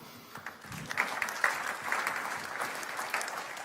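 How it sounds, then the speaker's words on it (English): Crowd applause at the 2024 WILLCO Awards ceremony, a moderately distant, sustained patter of many hands clapping with no voices over it. "please give a round of applause for Coach Joins"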